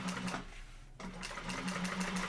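Sewing machine running steadily through a line of top stitching, a continuous loud whirring hum with a brief pause near the middle before resuming.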